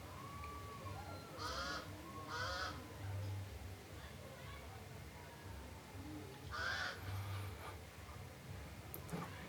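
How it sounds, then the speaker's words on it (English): Loud honking bird calls come in two pairs of bursts over steady outdoor noise, nasal and goose-like, with a faint low hum beneath. "I think the sound was coming from a bird"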